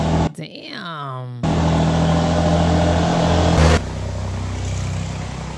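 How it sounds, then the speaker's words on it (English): A loud truck passing close by on a road, its heavy engine roar rising to a sustained rumble that dominates before easing back to a steady lower drone. "this loud ass truck about to come"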